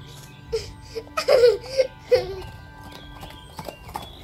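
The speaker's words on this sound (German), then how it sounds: "als sich ihnen ein Pferd aus Richtung Palast näherte" A single horse approaches with hooves clip-clopping in an audio drama scene, a few irregular hoof knocks mixed with other short tonal sounds, fairly quiet against a low background.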